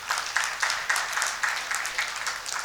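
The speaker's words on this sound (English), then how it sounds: "So a round of applause for the Vice Chancellor, please." Audience at an Engineers Day inaugural ceremony applauding the Vice Chancellor, heard as even, moderately loud clapping that sounds slightly distant and roomy.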